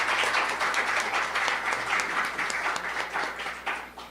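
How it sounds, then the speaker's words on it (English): Steady applause from a conference audience thanking a panel at a talk on getting a job in IT, a dense wash of many hands clapping that holds for about four seconds and thins slightly toward the end. "a round of applause, I think, for our panel"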